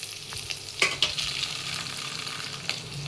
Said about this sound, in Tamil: இப்போ வந்து நம்ம கடலைப்பருப்பை போட்டுருவோம்.